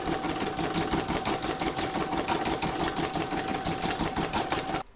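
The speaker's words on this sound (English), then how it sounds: "I'll pop that in my machine and stitch round number 2 to secure it" A home embroidery machine sews an in-the-hoop contactless bank card holder, its needle hammering in a fast, even, mechanical rhythm with a steady motor whine, close and continuous before stopping abruptly.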